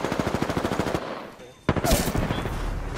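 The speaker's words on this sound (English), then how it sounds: "He's shooting inside, he's shooting inside." Rapid automatic gunfire in an Apex Legends match: a steady run of loud, evenly spaced shots, a brief lull, then another dense burst of fire with mixed shots.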